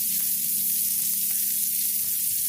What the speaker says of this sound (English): it's been grilling for about 4, maybe 5 minutes now